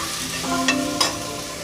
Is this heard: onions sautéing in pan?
yes